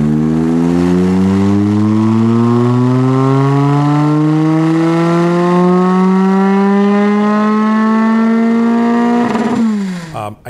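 A bone-stock Toyota 2AR-FE four-cylinder on a dyno with a swap header, stock intake manifold, catalytic converter and chambered muffler, droning loud as revs climb steadily for about nine seconds, then abruptly cut and wind down.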